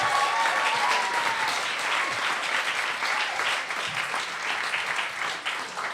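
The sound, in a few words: audience applauding and cheering a performer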